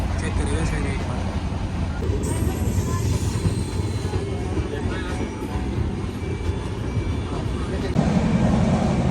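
Passenger train riding toward Delhi Hazrat Nizamuddin station, with a steady loud rumble of wheels and carriage noise throughout, a brief squeal-like rise partway, and a voice talking over it.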